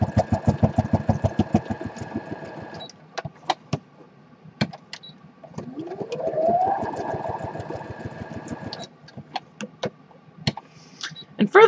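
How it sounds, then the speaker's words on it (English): A sewing machine runs a straight stitch around the edge of a fabric tag in rapid, rattling bursts that stop and start, with brief pauses and small handling noises between runs. "I'm going to stitch all the way around the edge of the tag"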